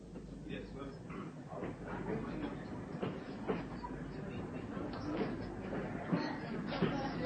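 A train pulls into a station platform in a radio drama, its rumble and clattering wheels rolling steadily at moderate distance with a few sharper clacks.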